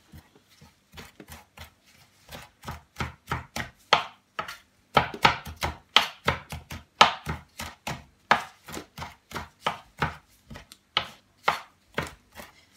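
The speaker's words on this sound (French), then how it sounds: "Je vais essayer de ciseler finement." Rapid knife chopping on a board, finely mincing ingredients for homemade steak, with dozens of close, crisp strikes in a fast, steady rhythm that builds and holds for several seconds.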